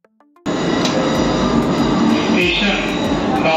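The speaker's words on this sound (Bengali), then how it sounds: "আর নিচে যাচ্ছে ট্রেন।" A Kolkata Metro train runs below, near Jai Hind station by the airport: a steady, loud rumble with rising mechanical whine and faint squeal. The clip opens with a few brief tones and then stays full and continuous.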